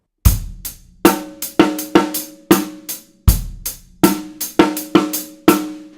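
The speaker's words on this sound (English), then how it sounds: "that's an example of how you might play it with no ghost notes and as a beginner player" A close drum kit plays a plain groove without ghost notes, every kick, snare and cymbal hit at full volume. The pattern repeats about twice with a stiff, even feel and no one talking.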